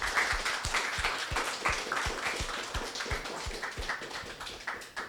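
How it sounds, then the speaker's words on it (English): Audience applause after a tech presentation, modest room clapping with a few distinct, evenly spaced louder claps or taps cutting through the steady patter, fairly soft overall. "Big applause."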